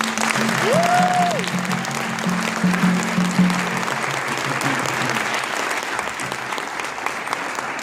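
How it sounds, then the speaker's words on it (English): Steady, continuous applause from the crowd at a 2017 Canadian citizenship ceremony held at a school, honouring the new citizens, with a low hum underneath. "Let's give them another round of applause"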